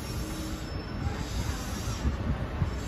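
A Keihan electric train runs along street track in Otsu near a rail signal, a steady close rumble of wheels on rails with a faint high squeal above it and some uneven knocks, no voices present.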